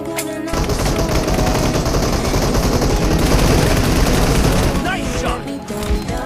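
Sustained automatic gunfire and explosions in the battle royale mobile game BGMI, dense and loud throughout, with game announcer voice lines over the shooting.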